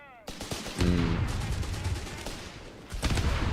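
Base machine gun fire in Company of Heroes 3, Canadian forces in a tournament match: sustained rattling bursts that start abruptly, fade a little, then swell again, fairly loud and close, with a commentator's voice faintly under it.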